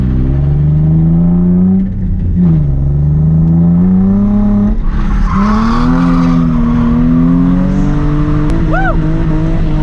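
A drift car revs hard through a lap, its engine note rising and falling in loud sustained sweeps with tire squeal and brief skids, heard from inside the car at close range.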